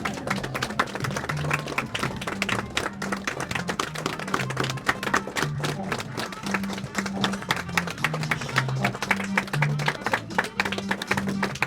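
An audience at a stage event gives steady applause welcoming a leader, a dense, continuous clapping that holds at even loudness throughout, heard close with no break.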